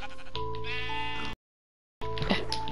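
Sheep bleat in Minecraft, a couple of wavering, nasal baa calls, the first cut off by a short silence before another bleat follows.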